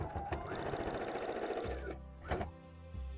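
A sewing machine stitching fabric pieces for a Christmas bag: a steady, fast mechanical whirring run of about one and a half seconds, then a brief pause, a short click and a second shorter burst, close and clear.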